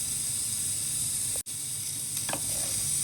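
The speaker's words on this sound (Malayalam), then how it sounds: "ഇനി നമുക്ക് മീൻ ഇതിനകത്തേക്ക് ഇടണം." Sardines dropped into a pot of boiling red chili sardine curry give a steady, close sizzling hiss that cuts out for an instant midway, with a few faint clinks near the end.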